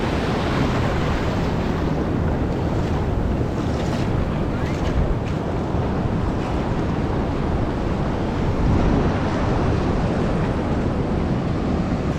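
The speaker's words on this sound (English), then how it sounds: "we're down by the beach, center of the city" Ocean waves wash steadily onto Surfers Paradise beach in the city centre, a loud, dense roar of surf with wind buffeting the microphone throughout and no clear talk.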